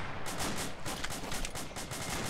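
Distant machine gun fire in an Arma game, a quick series of regularly spaced bursts, faint and far off, with no talking.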